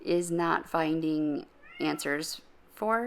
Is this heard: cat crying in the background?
yes